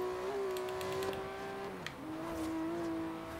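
Car engine in the video game Forza Horizon 3, a restrained, fairly quiet drone holding a steady pitch, dipping briefly as if shifting gear, then settling at a slightly lower steady tone.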